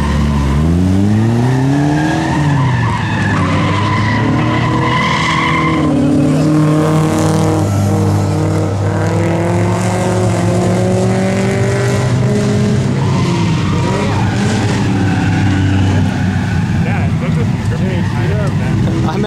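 A Honda Civic converted into a drift car on its first track outing, its engine revving hard and steadily with rising and falling pitch as it drifts, loud and close throughout, with possible tyre skidding mixed in.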